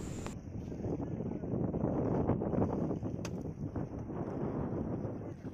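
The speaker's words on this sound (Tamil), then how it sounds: "ரொம்ப காற்று அதிகமாக இருக்குது" Strong wind at sea aboard a fishing boat, a dense low roar buffeting the microphone continuously at a fairly steady level with faint rustling on top.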